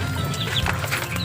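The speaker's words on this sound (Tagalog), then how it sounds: "wow na yung aking sisiw" Young chicks cheep in short, high calls over a steady low background hum, close and moderately loud for about a second.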